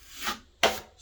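A wooden patch is sanded by hand in two short, rough rubbing strokes. The second stroke is louder and sharper than the first. Both are close with no talk.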